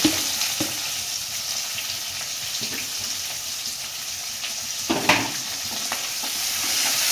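Thickly chopped onions frying in a pan after fennel and cumin seeds, a steady broad sizzle throughout with a few sharp clinks and stirring scrapes near the start and around the five-second mark.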